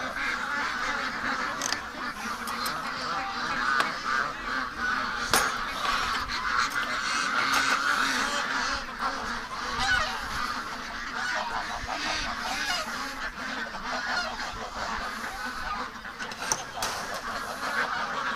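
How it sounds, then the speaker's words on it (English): A flock of ducks being raised for charity, stirring awake from sleep, honks and quacks in a dense, continuous chorus close by, with no pauses throughout. "let's wake these ducks up."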